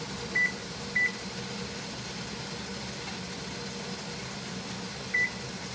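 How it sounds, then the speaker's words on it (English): A kitchen timer beeps while a pot of spaghetti sauce boils for canning, three short clear electronic beeps, two close together and one about four seconds later, over a steady low hum. "Okay, our timer went off after 35 minutes."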